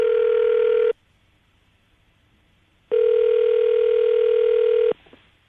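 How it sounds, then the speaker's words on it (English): Two long electronic telephone ring tones on an outgoing call, each about two seconds, separated by a pause of silence, clear and steady as heard through a phone line. "We're about to call Danielle, see if we can get her on the phone"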